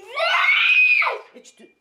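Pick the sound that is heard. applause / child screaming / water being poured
child screaming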